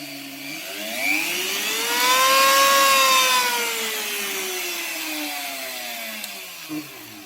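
A variable-speed rotary carving tool cuts into collected olive bonsai wood, its motor whining loudly and close as the pitch swoops up and back down with changing speed.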